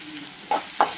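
Sautéing in a pan with curry leaves and salt: two short, sharp scraping sizzles about a third of a second apart over a low, steady background hiss, close and moderately loud, with no talking.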